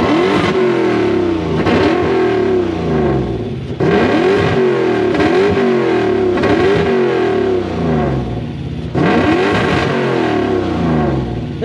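Toyota 1UZ V8 fitted in a 4Runner, loud and close, settling into a steady idle and then revving hard in repeated rising bursts, with three distinct surges spaced across the stretch.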